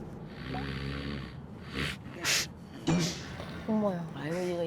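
A man sleeping with sleep apnea and chronic insomnia snores loudly, with several harsh snorting breaths in irregular bursts, close and prominent, mixed with some breathy background.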